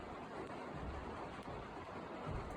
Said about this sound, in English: you can hear that rain on the roof, and that is just so relaxing